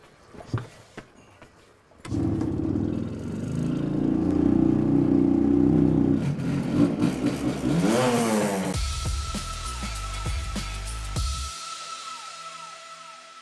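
A Zündapp moped being bump-started: a short scuffle, then the small two-stroke engine catches and revs up and down with rising whines, followed by a rattling idle and a thin steady tone, fairly close.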